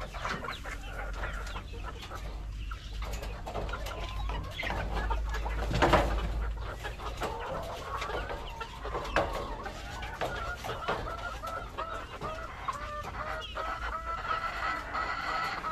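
Chickens and a rooster clucking in a backyard coop area, a busy, steady mix of fowl calls over low background rumble with one louder burst midway.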